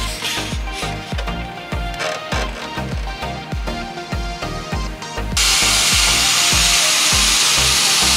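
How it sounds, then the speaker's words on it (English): Edge of an aluminium camber plate for a VW Golf 2 G60 brake upgrade is ground down, heard as a rhythmic series of close, loud scraping strokes followed by a continuous harsh grinding whine at the end. "To grind down really, really carefully a little bit of the edge so that it's the original round shape again"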